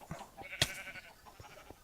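A sheep in the Minecraft video game bleats in a short burst amid quiet in-game background sounds, with no one talking.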